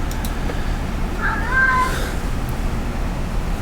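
A cat meows once in a short, rising-and-falling call at moderate distance, set against a steady background hum with no talking.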